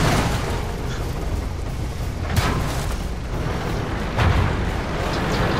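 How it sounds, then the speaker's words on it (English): A KV-2 tank fires its gun in the game World of Tanks, a sharp heavy boom rising out of a constant roaring rumble of battle noise, with a second thud following later. "That must have been the KV-2 that just fired at him."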